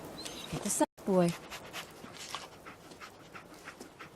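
Dogmeat, the dog companion in the video game Fallout 4, pants and whimpers in a short burst near the start, followed by quieter game ambience with light background sounds.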